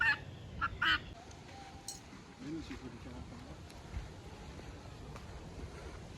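Loose chickens roaming a farm give faint, scattered clucks and squawks, with a short burst of calls at the start, under low outdoor noise and quiet voices.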